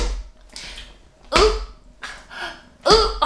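A dog barks indoors in a few separate bursts, two of them loud and sharp, with softer yips and whimpers between them.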